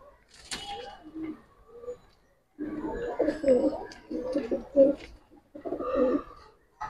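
Pigeons coo at a seller's stall among young birds of breeds such as Jabra, Military, Hemar and red-footed types, low soft calls recurring in bursts amid nearby talk.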